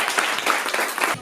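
Audience applause at a graduation-style certificate ceremony for trainees finishing an entrepreneurship course, a steady burst of clapping from a crowd lasting about a second before cutting off.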